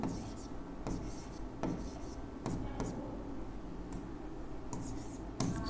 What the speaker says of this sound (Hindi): इसको मैं अच्छे से लिख दूं